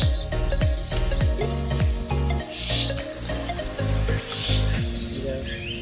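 Pigeons and young pigeon chicks being released call and chirp in quick repeated bursts over a dense, busy background, fairly close and loud throughout.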